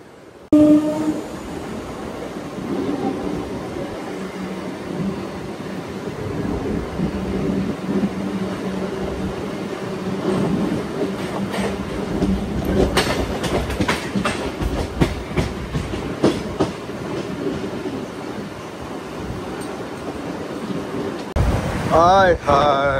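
A MEMU passenger train runs at cruising speed between Rajahmundry and Bhimavaram, a loud steady rumble and wheel clatter from inside the coach, with sharper rail clicks and a brief horn-like tone near the end.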